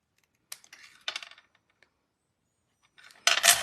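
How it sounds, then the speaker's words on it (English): Scissors trim the extra white border off a stamped paper card panel in a few short snipping bursts, followed by a louder rustle of paper near the end; no talk. "I'm going to cut off this extra white space"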